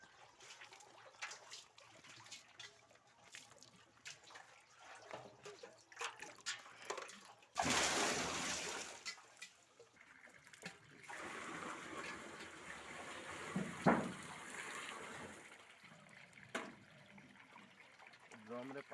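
Water is poured into a drum, making a trickling, splashing sound that rises to a louder gush partway through, with people talking at a distance.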